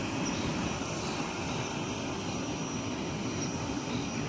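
A United Express Embraer 145 jet is heard at an airport, with a steady, broad engine roar holding at one level throughout, fairly distant and without voices.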